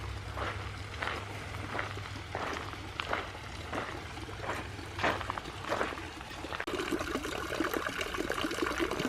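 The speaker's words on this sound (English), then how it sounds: "They're pouring some water all over the place too." Water is poured and splashed around a garden at Rip Van Winkle Gardens in a series of rhythmic, close sloshing bursts, then a denser continuous splashing takes over near the end. No one speaks.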